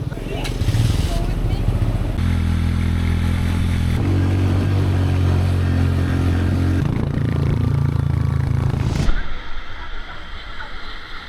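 A motorcycle engine rumbles and revs up close, with clattering and scraping, before cutting off abruptly near the end.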